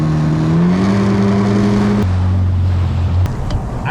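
A WaveRunner jet ski on a Florida lake roars loud and close as it punches from idle, its engine pitch climbing, then dropping into a steadier churning drone as the cavitating pump bogs, with no voices.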